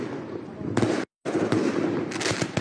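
Explosions and gunshots ring out during gang violence between rival groups in the Grésy district of Dijon, France: sharp repeated bangs and crackling bursts over a noisy street scene, cut by a brief silence, with voices underneath.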